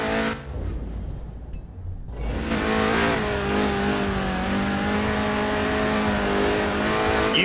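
A Lotus Elise track car drifts in Forza Horizon 4, its engine droning loud and steady with a sustained tire squeal running across most of the stretch after a brief quieter opening.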